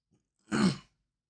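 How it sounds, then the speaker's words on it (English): A single rough throat clearing, close and fairly loud, lasting under half a second, preceded by a faint brief sound and followed by silence. "Sorry about that, I had to clear my throat."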